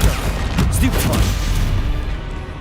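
A Stupefy spell cast in Hogwarts Legacy, heard as a dense, loud burst of magical blast and impact noise. Sharp crackling transients come amid continuous battle effects.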